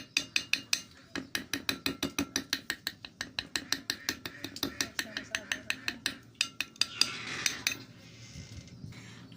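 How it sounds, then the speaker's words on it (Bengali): Chicken pieces pierced over and over with a fork, heard as a fast run of sharp, close metallic taps in a steady rhythm, each prong strike clicking against the plate beneath for most of the stretch before the taps thin out. "কাঁটা চামচ দিয়ে আগে আমরা ভালোভাবে এগুলো ছিদ্র করে নেব এইভাবে"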